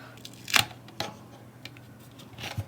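Tape ripped off a part inside a UGREEN DXP4800 Plus NAS during disassembly: a few short, close tearing and crackling bursts, the sharpest near the start, with a quieter rip toward the end, and no talk.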